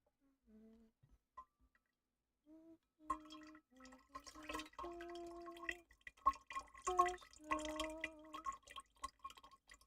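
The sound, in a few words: refilling a water container, water dripping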